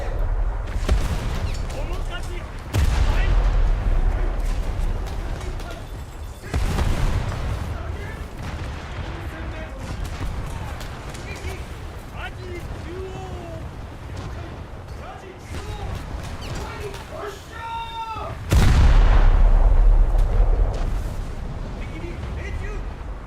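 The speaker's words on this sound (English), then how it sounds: "The torpedoes are starting to impact, the looks of it." Torpedoes strike ships in a naval battle game, several deep booming impacts spaced through the long stretch, the last one loudest, over rumbling background with a voice talking at times.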